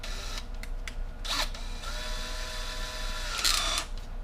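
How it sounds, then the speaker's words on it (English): A power drill turns an engine valve to lap it into the cylinder head of a 1964 Ford F350 dump truck, giving a steady whirring hum with a few short scraping bursts, close by in a workshop. "You run the drill, doesn't matter which way."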